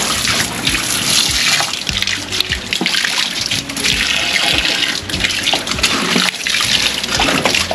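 Water pours and splashes continuously at close range while rinsing an iguana enclosure pond, a loud steady gushing with bubbling texture and no voices.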